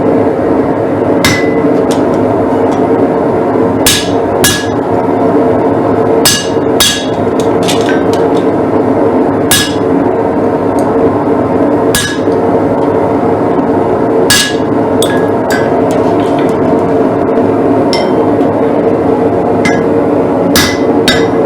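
Sharp metallic hammer blows ring out at irregular intervals as a bent part is beaten straight, close and loud over a steady workshop drone, with no voices.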